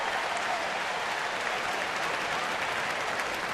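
Baseball fans in a stadium applaud after a hit, a steady dense wash of clapping from a large crowd that stays loud throughout.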